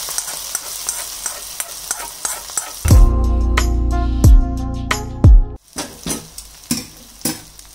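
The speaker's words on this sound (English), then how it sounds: "put that tadka onto this gongura leaf." Hot tadka poured onto gongura leaves in a pan, setting off a loud burst of sizzling with scraping stirs and clinks of a utensil against the pan, then settling into quieter frying.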